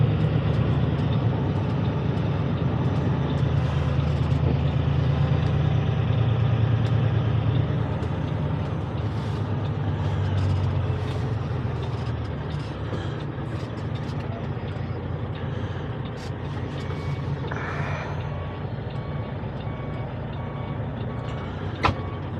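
A delivery truck bringing roof trusses idles with a loud, steady diesel rumble, then backs up as repeating reverse beeps sound over the engine near the end.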